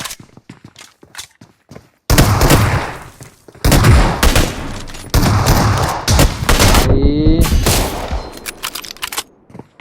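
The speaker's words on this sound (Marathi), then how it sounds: "अरे तन्मय तू त्या विन 94 नी मारला कोणातरी" Win 94 lever-action rifle fired in a video game amid loud, dense bursts of gunfire and crackling shots, with sharp ticks and a few quieter gaps between the heavy stretches.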